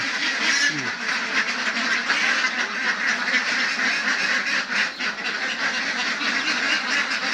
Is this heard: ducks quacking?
yes